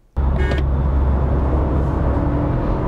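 Four-cylinder Toyota Camry hybrid accelerating hard, its engine and road roar starting abruptly and holding as a loud, steady drone from close inside the car.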